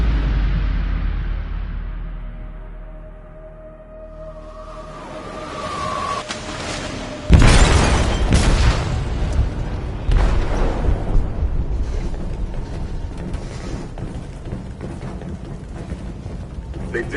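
An explosive detonates in a ship's hold in Detroit: Become Human. A low rumble builds before a sudden loud blast, followed by sustained rumbling and crashing debris.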